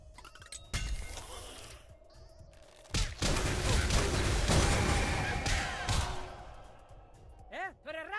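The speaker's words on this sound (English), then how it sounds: "Move over there, try shooting at them." Gunfire in the Pit People battle game crackles through a dense burst of combat noise, with sharp shots and clattering impacts spread across the clip under talk and game music.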